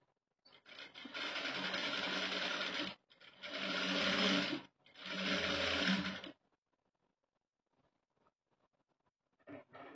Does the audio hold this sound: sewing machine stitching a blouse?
yes